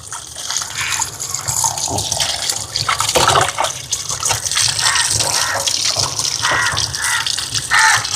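Steady running water from a tap splashing over raw chicken being rinsed, with handling noises and shifting splashes throughout, close and fairly loud.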